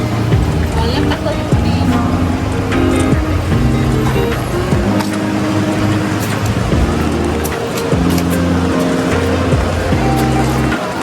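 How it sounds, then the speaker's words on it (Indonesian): Busy street in the Joo Chiat area of Singapore with many cars streaming past in a dense, continuous wash of engine and tire noise, loud and close, with shifting engine tones as vehicles come and go. "Ternyata banyak mobil lewat ya."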